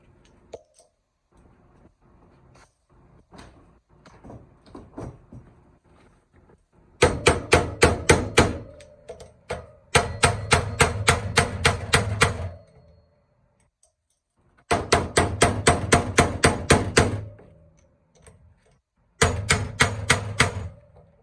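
A steel bearing and race driver is struck into a 2005 Honda CRF450R hub, rapid metallic hammer blows in four dense bursts separated by pauses, preceded by softer scattered taps, close and loud.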